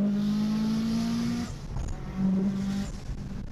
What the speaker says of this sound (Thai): ตอนนี้นะคะเราอยู่บนรถ Evo 8ของคุณพเชษฐ์